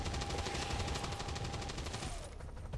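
Rapid gunfire in the video game XCOM 2, a dense burst of automatic shots at moderate level that fades out near the end.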